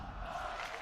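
A crowd cheering at an esports match, FaZe Vegas versus Gentlemates in a championship losers final, a brief swell of distant roaring voices and shouts.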